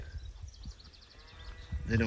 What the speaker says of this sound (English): The sheep are drinking up there out in the pond.